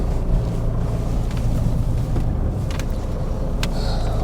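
A 1997 Toyota Hiace 4WD van with a 1KZ diesel engine drives steadily, its low engine rumble and road noise continuous and close throughout, with no talk.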